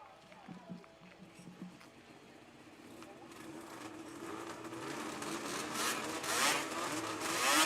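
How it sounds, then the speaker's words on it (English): Race car engines idle and build at the 50th Bonnechere Cup in Eganville, a rising mechanical drone that grows louder and rougher toward the end, with voices talking over the early part. "Engines have fired"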